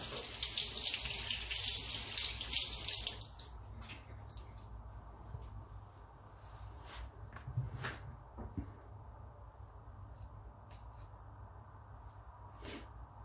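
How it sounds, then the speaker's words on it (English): A tap runs at a sink while hands are washed, a loud steady splashing stream for about three seconds, then shuts off, leaving faint drips, quiet hand rubbing and a few small clicks and knocks. "I'll just quickly wash my hands"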